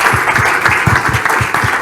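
Audience applause for a panel of speakers at an audit risk conference, a dense steady wash of clapping with rhythmic low thumps from nearby hands, loud and continuous throughout.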